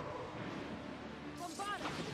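A deep rumbling blast from the Bombarda explosion spell in the Hogwarts Legacy game, heavy and booming, with a brief higher sound near the end.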